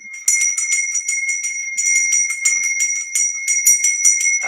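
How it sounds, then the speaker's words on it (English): A handmade bell rings in quick, repeated tinkling strokes, bright and clear with a steady ringing tone sustained across several bursts, close by and without voices. "You want me to ring the bell?"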